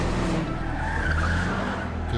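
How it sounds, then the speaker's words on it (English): Several cars skid with screeching tires on their way to a house in the TV series Stranger Things, a sustained squeal over rumbling engines lasting the whole stretch, loud and close. "so we got a lot of screaming cars coming to a house"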